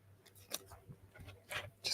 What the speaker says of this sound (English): helps you have a sharp pair of scissors